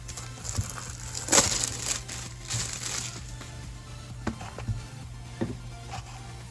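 A knife cuts and crinkles through plastic packaging holding trading cards, producing short scraping and crumpling bursts at close range, with a steady low hum in the background.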